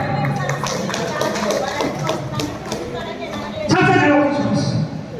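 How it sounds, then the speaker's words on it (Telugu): An audience at a magic show claps in a dense patter of hand taps, swelling louder toward the end, while a voice talks over it. "గట్టిగా చప్పట్లు కొట్టండి"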